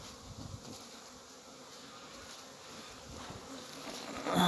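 Steady, dense buzzing of many honeybees flying close around the hives on a sunny early-December day, a continuous drone that swells louder near the end.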